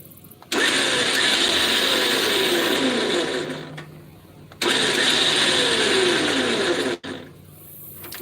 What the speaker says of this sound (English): I guess we should just grind it all the way through